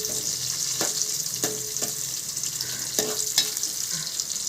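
Ginger and chopped shallots fry in hot oil in a pan for a Kerala fish curry, a steady bright sizzle broken by a few soft knocks as a utensil stirs them.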